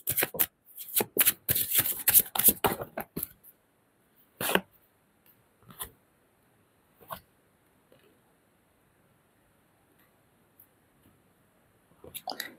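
Tarot cards being shuffled by hand, a run of quick crisp riffling bursts up close, followed by a few sparse single card snaps and taps with long quiet gaps between them.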